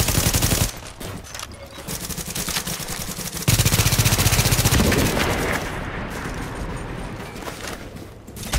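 Gunfire in The Division video game: dense bursts of rapid automatic shooting, loud and continuous with heavy rattling fire and a brief pause early on, no talking.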